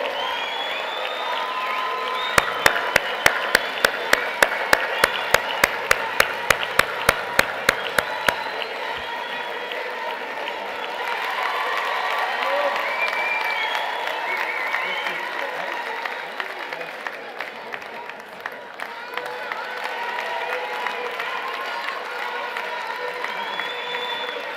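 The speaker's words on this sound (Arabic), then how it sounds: "صفقوا عليهم" An audience at a political party gathering in Morocco breaks into loud, rhythmic clapping up close, with cheering and crowd noise, which fades into a broader murmur of clapping and voices.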